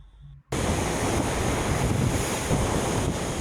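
The Buff Bay River in Portland, Jamaica rushes loudly and continuously after a brief quiet moment, a dense broadband roar of flowing water heard close up with no voices.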